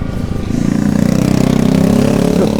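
A motorcycle rides along a village road in Sukamekar that flood erosion from the Bekasi river has damaged, its engine a loud, close, chugging low rumble with rattling that builds as it passes.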